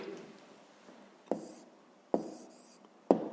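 A pen scratches down a math answer on paper, faint and close, with three sharper taps or strokes at roughly even intervals over soft background noise.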